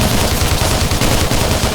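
Rapid, continuous bursts of sci-fi laser gun fire from a Minecraft mod crackle loudly for under two seconds, with no talking.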